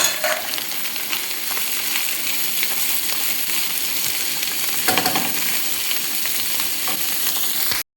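Chopped mushrooms with salt fry in a pan alongside softened garlic, giving a steady, dense sizzle and hiss that runs unbroken and close, with a few soft stirring scrapes.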